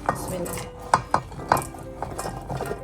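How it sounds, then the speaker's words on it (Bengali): Chopped carrot, cauliflower, potato and onion tumble into a rice cooker pot for khichuri, making several close clattering knocks and light scrapes at an uneven rhythm. Faint background sounds continue between them. "গাজর, ফুলকপি, আলু সব একসাথে দিয়ে দিলাম।"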